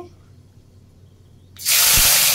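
Whole cloves, cinnamon sticks and cardamom pods hit hot mustard oil with a sudden loud, broad sizzle that starts abruptly and then roars steadily close up.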